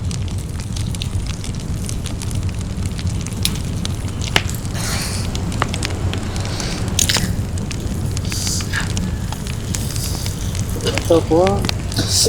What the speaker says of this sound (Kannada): ಫುಲ್ಲು ಎಣ್ಣೆ ಮಸಾಲೆ ಒಳಗಡೆ ಫ್ರಾನ್ಸ್ ಬೇಯ್ಬೇಕಾದ್ರೆ ಈಗ ತೊಳೆದಿಟ್ಕೊಂಡಿರೋ ಕರಿಬೇವಿನ ಸೊಪ್ಪು ಹಾಕೊಳ್ಳಿ.